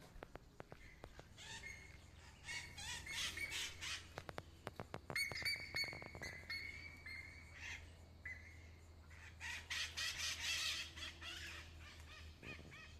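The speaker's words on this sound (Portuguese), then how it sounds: "Olha, chegou um monte de papagaio ali" A flock of parrots squawks outside near a quiet front-of-house reading spot, with repeated harsh calls bursting in waves, loud at times and overlapping, over a steady low background hum.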